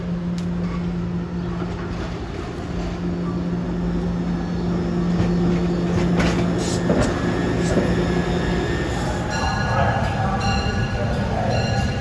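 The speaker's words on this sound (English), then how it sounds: "West Trenton train arriving, one of the expresses with push poles." A West Trenton express commuter train with push-pull cars arrives, its rumbling wheels and steady mechanical hum building slowly, with high metallic squeals and clanks rising near the end.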